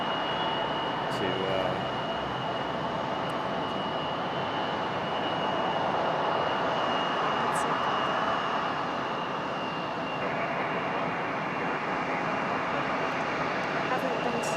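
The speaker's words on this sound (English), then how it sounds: "This was Delta Connection 5108, CRJ 900, came in from LaGuardia" A Delta Connection CRJ 900 regional jet arriving from LaGuardia at Raleigh Durham airport gives a steady, broad jet roar that holds loud and unbroken for the whole stretch, with no voices.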